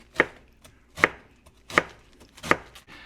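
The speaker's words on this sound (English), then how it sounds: "I'm going to be mixing this into the sausage, so I'm going to have to chop this up a bit" Head of cabbage chopped with a knife on a board, four distinct sharp thuds spaced at a slow, even pace, close and clear with no talk.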